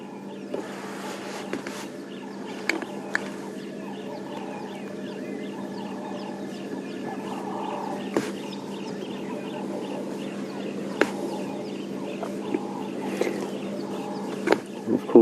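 A dawn chorus on a safari sunrise drive, with sticklers, crested barbets and emerald spotted wood doves among the birds. Many overlapping calls and chirps, some near and some far, continue steadily beneath a rooster-like crowing.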